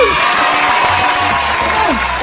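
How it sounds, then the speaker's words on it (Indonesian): Children clap their hands together during a combined kids' church worship class, a continuous busy patter of clapping with a voice briefly audible over it. "Tepuk tangan dulu."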